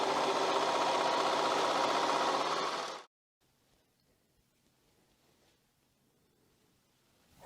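Sewing machine stitching the curved raglan seams of an ultralight Alpha Direct fleece hoodie, a loud steady whir for about three seconds that stops abruptly, leaving faint room noise.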